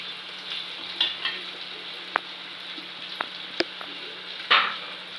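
Ginger garlic paste hitting hot oil for a rela puvvu curry: a faint, steady frying hiss with a few sharp spoon taps and scrapes scattered through, and a brief louder sizzle burst near the end, no voices.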